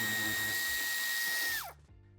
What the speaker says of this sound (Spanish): Y quitamos el tornillo.